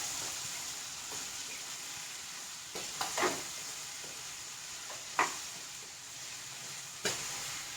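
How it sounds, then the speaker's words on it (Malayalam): Vegetables with green peas sautéed and stirred in a pan while making a vegetable kurma, giving a steady soft sizzle with a few scraping stir strokes and light clanks, moderately close and without talk. "ഇനി നമുക്ക് നന്നായിട്ട് ഒന്നത് വഴറ്റി കൊടുക്കാം"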